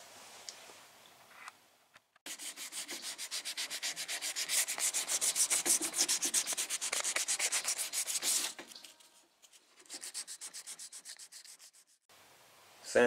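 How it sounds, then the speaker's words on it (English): Dolphin glaze filler on a car body, a Monte Carlo SS, is hand sanded with 180-grit sandpaper, giving a long steady rhythmic scratching that pauses and then resumes in a shorter burst, close and clear with no talking. "Sand it down, ready to shoot my epoxy."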